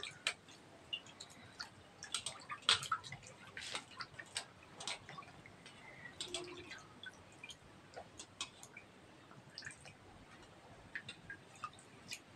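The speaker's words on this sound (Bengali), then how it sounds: "প্রথমে আমি মাছগুলোকে জলে ধুয়ে নেবো।" Hilsa fish rinsed in water, giving faint, sparse drips and small splashes with soft irregular ticks at a low level, no voices.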